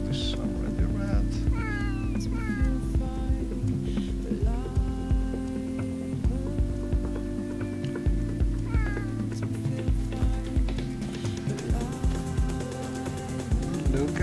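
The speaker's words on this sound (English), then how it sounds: "Look at how many cats." Cats in the video game Morrowind meowing again and again, several distinct rising and falling calls across a steady game hum, clear and fairly close.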